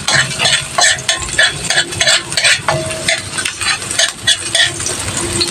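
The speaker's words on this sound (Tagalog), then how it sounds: "Dito naman po ay magigisa na po ako ng bawang" Garlic sautés in a hot pan, a loud crackling sizzle mixed with frequent metallic scrapes and clinks of a utensil stirring, close and busy throughout with no voices.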